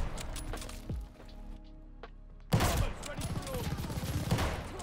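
Call of Duty Vanguard Kar98k bolt-action rifle shots in a long-range match, with several sharp cracks early, a quieter lull, then a loud burst of game gunfire and commotion.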